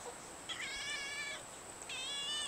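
A young kitten meows close by, two drawn-out plaintive cries separated by a short pause over quiet room background, with no talking.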